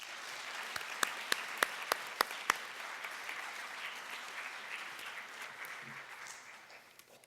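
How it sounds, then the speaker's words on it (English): A round of applause rises from the audience at a high school fine arts festival, opening with a few sharp, close individual claps over soft, steady clapping that gradually thins and fades. "we'd like to give them a round of applause"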